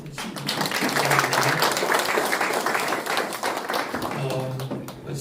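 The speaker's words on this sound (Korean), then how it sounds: "우리 박수를 한번" Applause from a church gathering of Korean Christian council officers and pastors at a prayer meeting, a dense crowd clapping steadily for about five seconds with voices mixed in.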